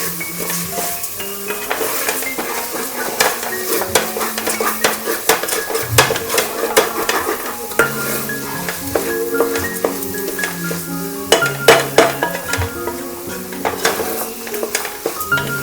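A wooden spoon stirs salted onions in a hot pan, with continuous sizzling frying and frequent scraping clinks against the pan, loud and close, with no one talking.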